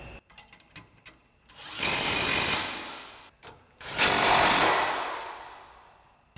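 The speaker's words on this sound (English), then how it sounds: "tighten down both of our mounting bolts using our 15mm socket on our impact" Impact wrench with a 15mm socket tightens mounting bolts on a 2015-2020 Ford F-150 during a lowering kit install, two loud close bursts of whirring hammering, each fading out, separated by short clicks and handling noises.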